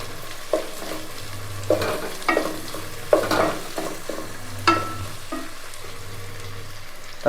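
Medium tomatoes added to ginger and garlic frying in a pan for veg kuska, a steady sizzle under scattered scraping stirs and clinks of the spoon, close up.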